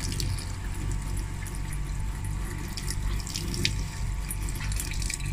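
Water runs steadily from a tap as a Chinese gas water heater is drained, giving an even, continuous splashing rush for the whole stretch with no talk over it.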